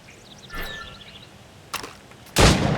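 A few gunshots fire at targets during training in Assassin's Creed Rogue: a soft early pop, a sharper crack near the middle, then a loud, close blast that rings on to the end.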